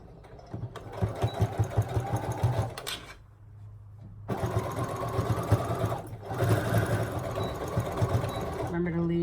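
Domestic sewing machine stitching all the way around a pair of homemade sweatpants, running in fast rhythmic bursts with a brief pause midway and another near the end, close and steady.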